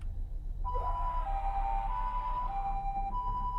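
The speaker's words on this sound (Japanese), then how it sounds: "シャア専用の救急車通ったぞ今" An ambulance siren passes in a horror video game, its steady wailing tone entering after a brief quiet moment and holding at moderate loudness over a low background rumble, with no talking.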